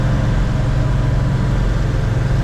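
A 1969 Dodge Charger SE built as a General Lee tribute rumbles along at a steady pace, a deep, continuous, loud engine drone heard from inside the car, with no one speaking.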